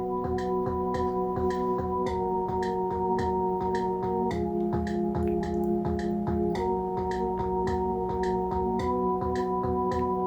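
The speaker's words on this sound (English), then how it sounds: "there it is, Lonely Techno Bells, and it sounds like this." A Lonely Techno Bells synth layer plays steady sustained bell-like chords over a quick ticking pulse, with chord shifts every few seconds, quiet and alone without speech.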